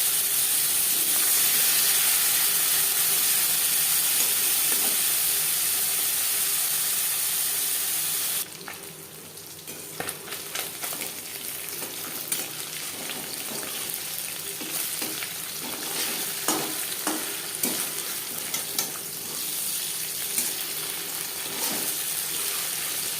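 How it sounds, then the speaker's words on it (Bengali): Loud, steady hissing sizzle of small mourola fish coated in salt and turmeric frying in hot mustard oil, settling into softer crackling and popping that continues close by. "এবার দিয়ে দেবো লবণ হলুদ মেখে রাখা মাছ।"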